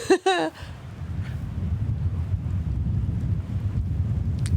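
Strong headwind buffets the microphone on an outdoor disc golf course, a low continuous rumbling gust after a brief voice at the start.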